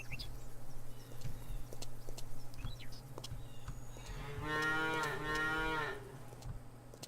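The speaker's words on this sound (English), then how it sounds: "Those are Jersey cows." A Jersey cow in a farming video game gives one long, drawn-out moo midway, over a faint steady background hum and scattered soft clicks.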